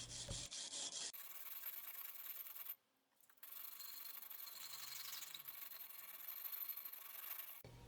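A hook knife bevel is rubbed with sandpaper, moving from coarse to fine grit, giving quiet, steady rasping strokes with a brief pause partway, close and without talk.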